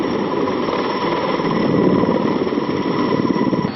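Twin 11,400 HP engines of an Mi-26 heavy-lift helicopter drone in a steady, dense roar with a faint rhythmic beat, close and loud throughout, with no other sounds breaking through.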